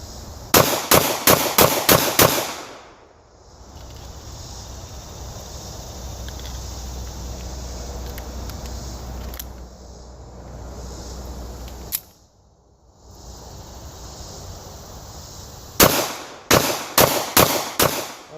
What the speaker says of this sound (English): we'll throw a few more rounds down there, rapid fire, so we can see what it looks like